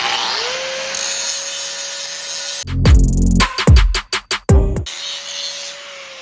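An angle grinder cleaning up metal during a hydraulic cylinder and muffler repair, a steady whine that gives way to loud harsh grinding bursts in several quick pulses, then the whine returns.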